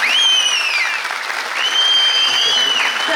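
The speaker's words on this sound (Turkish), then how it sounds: "bir alkışlar rica ediyoruz sizlerden bu güzel oyunlar için" Audience applause for students' performance at a tradesmen and artisans' Ahilik Week event, a continuous broad clapping wash with high whistles or tones sliding over it.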